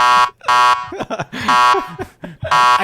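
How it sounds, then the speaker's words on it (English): A loud, harsh buzzer blares in repeated bursts, with brief voices and noises between the blasts. "I just want to do the buzzer."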